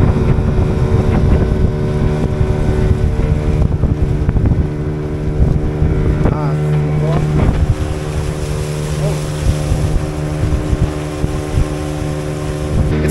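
Steady droning engine of a small motorboat underway among floating reed islands in Peru, with wind buffeting the microphone and some faint voices in the background.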